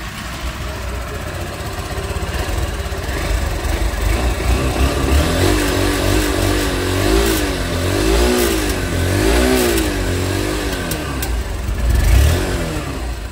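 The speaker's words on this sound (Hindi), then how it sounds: "ये था यूनिकॉर्न 160 का एग्जॉस्ट साउंड।" A Honda Unicorn 160 motorcycle runs steadily near its exhaust, with a loud, rough engine note that swells in a few gentle revs over about thirteen seconds.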